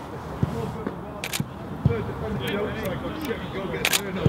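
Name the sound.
camera shutter clicks, bracketed exposures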